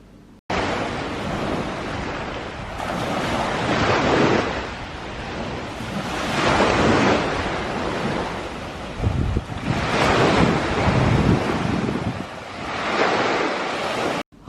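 Seaside waves breaking and washing ashore in rolling surges, with steady wind buffeting the microphone throughout; no voices.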